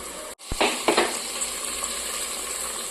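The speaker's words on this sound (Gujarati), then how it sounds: "આપણે જો વઘાર ચાલુ કરી દીધું." Spices crackle and sizzle in hot oil in a pan as tempering starts for vegetable biryani, a steady bright frying hiss with a few sharper pops near the start, close and continuous.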